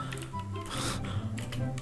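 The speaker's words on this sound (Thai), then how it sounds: "เสียงคีย์บอร์ดอัดดังนิดนึงนะทุกคน พอดีมันเป็นบูสวิตนะ" Loud, rapid typing on a mechanical keyboard fitted with blue switches, a dense run of sharp clicky keystrokes close to the microphone, with faint game audio and a little voice in the background.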